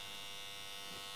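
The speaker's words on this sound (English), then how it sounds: "just lightly glide the clipper over his skin" Electric hair clipper glides lightly over a child's skin below the hairline during a pompadour taper cut, giving a faint, steady high-pitched buzz with no talk.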